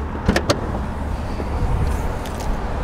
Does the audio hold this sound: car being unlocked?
yes